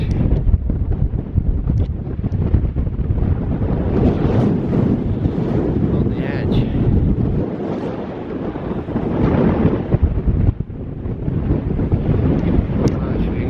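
Strong wind buffets the microphone along a coastal path near a beach, a loud, continuous roar with low rumbling gusts and no clear voices.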